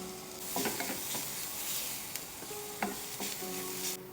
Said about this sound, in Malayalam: സോ ബീഫ് കുക്കാവുന്നവരെ നന്നായിട്ട് സോട്ടേ ചെയ്യാം